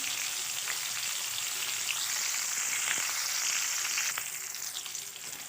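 Garlic cloves, green chilli and capsicum tempering in hot oil, a steady dense sizzle running throughout with faint stirring clicks, easing off slightly at the end.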